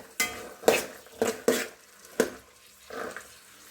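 Pulao with raisins being stirred in a pot in a home kitchen, a handful of distinct scraping clinks of a spoon against the pot in an irregular rhythm, close and moderately loud with no talking.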